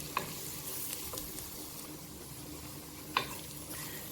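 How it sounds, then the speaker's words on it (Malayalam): Ground garam masala, black pepper and turmeric powder frying in a pan for a fusion pasta, with a low steady sizzle and two brief scraping clinks of a spoon stirring the spices, no voices. "ഗരം മസാല, കുരുമുളക് പൊടി, മഞ്ഞൾപ്പൊടി ഇതെല്ലാം നമ്മൾ ആഡ് ചെയ്ത് നന്നായിട്ട് യോജിപ്പിക്കാം"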